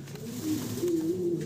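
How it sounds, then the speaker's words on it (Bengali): A pigeon coos close by in a low, throaty, wavering call that swells and holds for about a second over a quiet background. "দর্শক, সিঙ্গেল আমরা চমৎকার এক পিস কবুতর দেখতেছি।"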